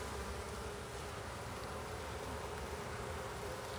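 A dense, steady buzz of many honeybees close by, an even drone holding at the same loudness throughout with no voices.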